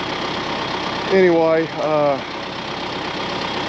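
Tractor engine idling steadily at low, even rumble throughout, with someone talking over it in the middle.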